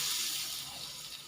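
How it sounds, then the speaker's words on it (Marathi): Water poured into a pan of amti, a Marathi dal curry, while cooking, giving a steady, fairly faint splashing flow for about a second and a half with no talk over it. "आता ह्याला पण थोडंसं पाणी टाकणार आहे."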